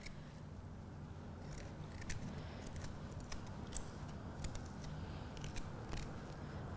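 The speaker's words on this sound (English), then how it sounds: "one of the best ways of peeling it is just to use a teaspoon" A teaspoon scrapes the skin off fresh ginger in quick, short crisp strokes, faint and close, over a steady low background hum.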